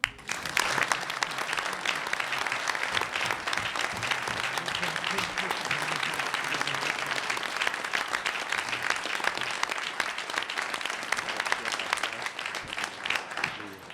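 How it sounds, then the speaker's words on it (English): Steady applause from a room of trustees and attendees at a CUNY Board of Trustees meeting, a dense wash of clapping sustained evenly for about fourteen seconds at moderate distance. "All in favor, please applaud."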